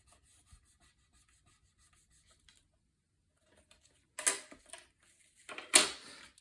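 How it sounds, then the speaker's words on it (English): Paper being burnished down onto a mini album page by hand, two short bursts of firm rubbing after a near-silent stretch, close and fairly loud. "And burnish it down."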